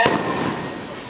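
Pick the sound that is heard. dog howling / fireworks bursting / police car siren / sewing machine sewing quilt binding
fireworks bursting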